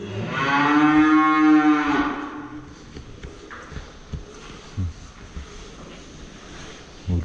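A cow lets out one long, loud moo close by, followed by quieter shuffling and scattered thumps.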